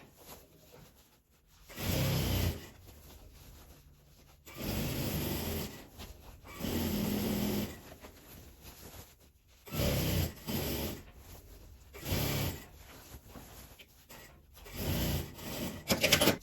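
Sewing machine stitching a seam on a denim tote bag, running in several separate bursts of a couple of seconds each with quiet pauses between them, close and fairly soft.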